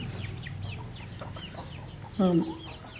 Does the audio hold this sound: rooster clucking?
yes